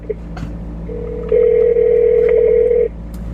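An outgoing phone call's ringback tone plays as one long steady electronic tone of about a second and a half, heard alone over a faint background hum with a few small clicks.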